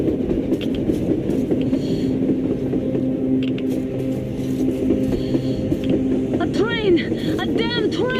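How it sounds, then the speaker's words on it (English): A video-game train rolls along on the surface with a steady mechanical rumble and rhythmic clatter, while voices speak over it. "A damn train on the surface!"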